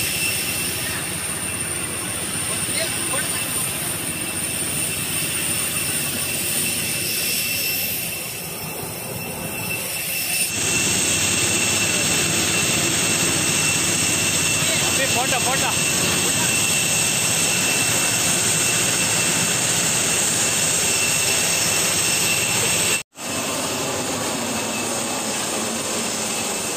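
Jet engines of a parked airliner roar steadily during boarding on a Delhi to Devanahalli flight, a loud continuous whine and rumble that shifts in tone partway through, with occasional talk nearby.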